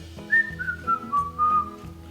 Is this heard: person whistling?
yes